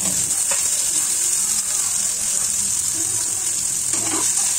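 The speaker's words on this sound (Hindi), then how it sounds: "गुलर को बढ़िया से फ्राई कर लेंगे।" Steady hissing sizzle of boiled cluster figs frying in hot mustard oil in a wok over high flame, with a few faint clinks and stirring scrapes, close and continuous.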